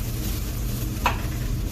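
Galbitang beef rib soup boils in a restaurant kitchen with a continuous rushing, bubbling hiss. A single brief utensil clink sounds midway, and no one speaks.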